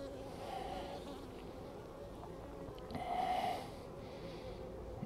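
Honey bees hum around an opened hive during a walk-away split, a faint steady drone close by with a brief louder swell of buzzing partway through, and no talking.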